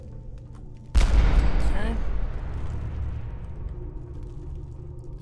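A frag grenade blast in the Fallout 4 video game erupts suddenly as a heavy boom with a long rumbling decay, preceded by a brief spoken word.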